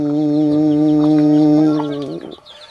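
A single loud rooster crow held for about two seconds, tapering off at the end, close and clear with no talking.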